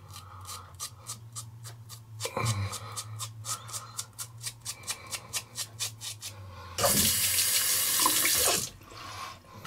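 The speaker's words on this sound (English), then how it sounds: "I do rinse my razors with the hot water" Hot water running from a faucet while a razor is rinsed and tapped, with a rapid rhythmic series of scraping strokes, then a loud burst of gushing tap water near the end.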